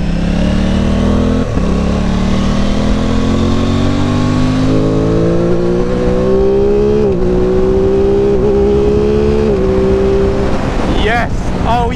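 Aprilia Tuono 660 motorcycle engine pulling hard through the gears, loud and close, its pitch climbing steadily with quick-shifter cuts and rev-matching blips at each gear change.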